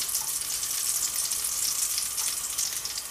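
French toast slices sizzle and fry steadily in a pan, a constant bright crackling hiss that fills the whole stretch with no talk over it.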